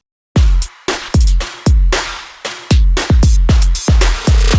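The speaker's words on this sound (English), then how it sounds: "So this is all the drum sounds apart from the kick." A hip hop drum pattern built in FL Studio plays with no kick, just punchy snares, claps and percussion hits landing in a steady, loud, close groove for several bars.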